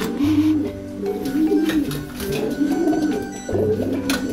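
Racing sprint pigeons in a loft give repeated low, rolling coos in steady waves, close and fairly loud, with a faint background murmur.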